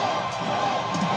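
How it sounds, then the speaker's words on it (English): A wrestling crowd in London roars for Matt Riddle, a continuous wash of cheering and whoops with a commentator talking over it. "listen to the crowd going nuts for Riddle here"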